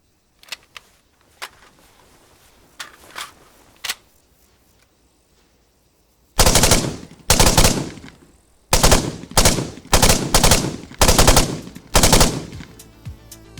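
Bursts of automatic fire from an H&K G53 rifle in a video game, a few isolated sharp shots followed by several loud sustained volleys separated by brief pauses.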